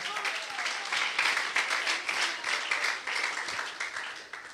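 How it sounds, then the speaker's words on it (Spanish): A church audience claps during a cell-group teaching event, a moderately loud burst of applause that swells and then slowly tapers off, with a voice faintly audible underneath. "Denle su ofrenda de palmas al Señor en esta hora."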